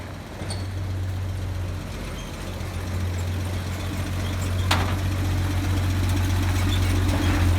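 A 1950 Dodge Power Wagon engine runs steadily with a deep, low idle rumble that holds for the whole stretch, with a brief sharp knock partway through and no voices.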